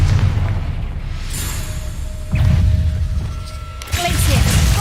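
A Confringo fire spell bursts in Hogwarts Legacy, giving two loud booming blasts a couple of seconds apart over a steady rumbling game background.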